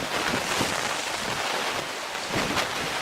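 Steady broadband wash of water with gentle swells rising and falling on an Isle of Man shore, wind rushing across the microphone throughout, no voices.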